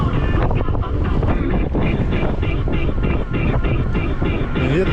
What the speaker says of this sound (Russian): ветер, блин.